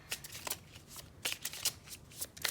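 Tarot cards are shuffled in quick riffling bursts, crisp papery flutters coming in uneven clusters, close and fairly quiet with no voice.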